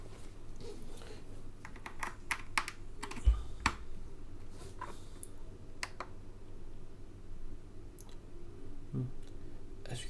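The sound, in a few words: typing on Next Time 75 keyboard with Akko Ocean Blue switches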